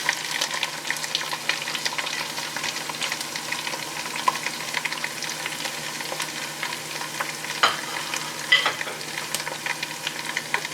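Curry leaves, cumin and red chillies frying in hot oil, a continuous close crackle of tiny pops and spits with occasional louder bursts, steady throughout and with no voices.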